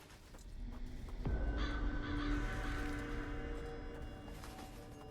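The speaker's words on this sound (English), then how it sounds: "Not these freaking crows." Crows caw in the woods of the video game Little Goody Two Shoes, several harsh calls clustered in the first half over a soft, steady ambient bed, moderately distant and fairly quiet.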